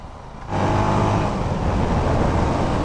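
An SWM Outlaw 500 motorcycle engine surges loudly as it shifts through gears, a dense close roar that rises abruptly and holds steady, with no talking.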